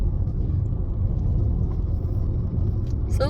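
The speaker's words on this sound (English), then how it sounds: "So John is driving" A car drives along a road toward Kilkee, a seaside town in County Clare, its low steady rumble continuous and close throughout, with a brief brighter noise at the very end.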